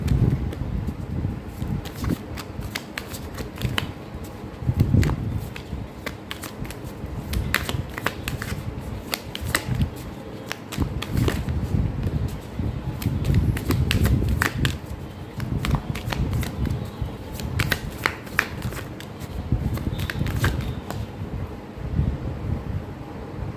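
Tarot deck being shuffled by hand for a spiritual card reading, with continuous riffling and soft slapping cards sounding close up, with no talk over it, against a light background rustle.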